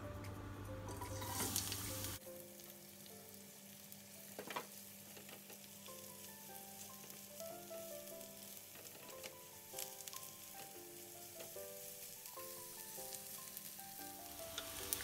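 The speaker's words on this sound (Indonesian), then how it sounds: "Bawang putih, bawang merahnya ditumis." Garlic and shallots sauté in a little cooking oil in a wok, a steady sizzle running throughout, with music playing over it.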